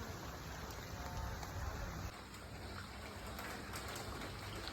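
Steady rain falls outdoors, a soft continuous hiss of drops on surfaces, faint and even throughout with no voices.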